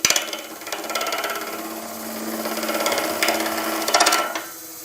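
A wood lathe turns an epoxy-and-timber dragon's egg blank at about 1400 RPM, giving a steady whirring hum with a faint scraping texture. The sound swells slightly near the end, and no one speaks.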